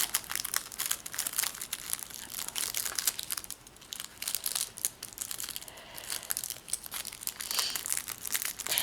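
A small plastic sticker packet from a scrapbooking kit is handled near the mic, giving steady, busy crinkling and rustling with brief quieter moments.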